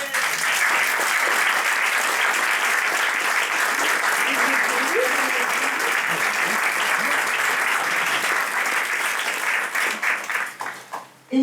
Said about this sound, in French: d'applaudir dans un premier temps toute l'équipe de salariés